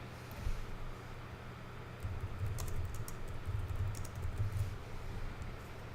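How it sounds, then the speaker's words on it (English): Quiet typing on a computer keyboard, soft scattered key clicks in short bursts over a low steady background hum, with no one speaking. "And then we can type whatever we want here."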